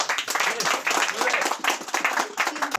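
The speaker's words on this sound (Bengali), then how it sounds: "ম্যাডামকে আমরা একটু জোর করতালি জানাই" An audience clapping for a guest at a social work gathering, a close burst of hand claps in uneven surges, with voices mixed in.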